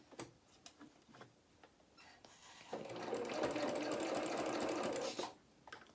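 A domestic sewing machine stitches the sleeve seams of a small doll's coat: a few scattered clicks and ticks, then a steady, fairly quiet whirring run of about two and a half seconds, then stopping, with no voices.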